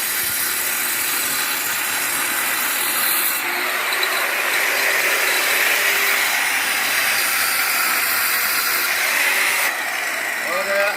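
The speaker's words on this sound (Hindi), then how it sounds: "तो इन्हें अच्छी तरह लेवल करने के लिए ग्राइंडर इस्तेमाल कर रहा हूँ आज" A grinder levelling uneven brickwork, a loud continuous harsh whine and grinding roar that holds steady throughout, shifting slightly in pitch as it bites, close by, with no talking.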